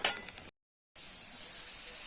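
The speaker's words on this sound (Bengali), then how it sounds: "মুগ ডালটা ভেজে নেবো এখানে আলুর মধ্যে দিয়ে আলু আর ডাল একসঙ্গে ভাজা হবে" Mung dal and potatoes fry together in a pan with a soft, close sizzle and a faint clink, cut by a half-second gap of silence before the frying hiss resumes steadily.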